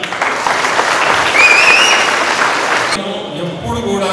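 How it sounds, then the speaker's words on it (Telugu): Audience clapping steadily at a gathering, dense and sustained for about three seconds before thinning into scattered claps and a voice starting to talk. "అందరూ ప్లీజ్ క్లాప్."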